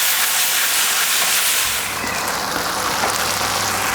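King prawn satay sauce bubbles and caramelises in a pan on a Kamado Joe grill, a dense steady hiss and sizzle that stays loud and close throughout.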